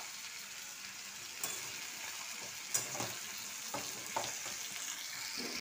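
Ground onion frying in a pan for chicken korma, a steady sizzle punctuated by several light scrapes and clinks of a stirring utensil, close and without voices.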